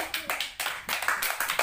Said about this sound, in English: claps for her